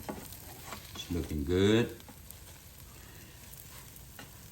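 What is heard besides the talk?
French toast sizzling in a Power XL cooker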